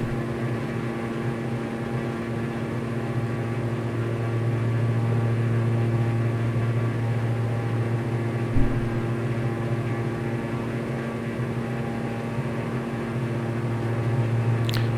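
A steady, loud aircraft engine drones with a constant tonal hum in a flight simulator game, holding an even pitch throughout with one brief thump partway through and no voices.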